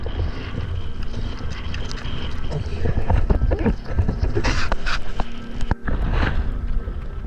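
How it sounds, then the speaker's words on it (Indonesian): Strong wind buffeting a small boat at sea, a loud continuous low roar with gusty bursts and occasional splashes and knocks, steady throughout. "Saat ini tiba-tiba angin bertiup cukup kencang"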